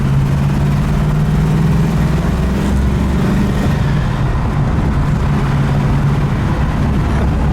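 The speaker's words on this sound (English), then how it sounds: "Nice opener going through the gears there." A 1970 Dodge Challenger R/T with a 426 Hemi and four-speed pistol-grip manual pulls hard through the gears, its deep engine roar steady and loud from inside the cabin.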